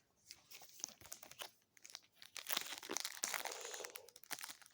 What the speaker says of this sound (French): on va ouvrir les boosters